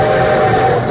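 A brief radio train sound effect for an arriving show train: a loud, steady chugging rumble with a sustained whistle-like tone, cut short after under a second.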